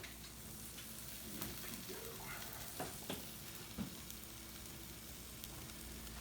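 Quesadilla browning in a hot pan, a quiet steady sizzle with a few soft scrapes and taps, low in level with no talking.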